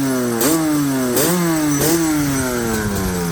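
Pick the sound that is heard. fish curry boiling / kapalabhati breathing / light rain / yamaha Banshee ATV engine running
yamaha Banshee ATV engine running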